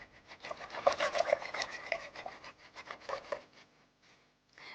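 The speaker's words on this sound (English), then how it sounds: "So, I just gotta whisk that yogurt into the milk." Whisk stirring yogurt into milk in a bowl, quick close scraping and rubbing strokes for a few seconds that then fade to near silence.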